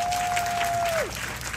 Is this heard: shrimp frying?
no